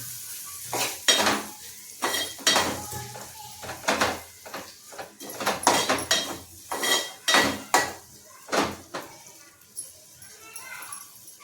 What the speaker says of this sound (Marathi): आता याच्यात आपण थोडंसं वाटण टाकायचं आहे खोबऱ्याचं, आणि तेही मिक्स करून घ्यायचं छानपैकी.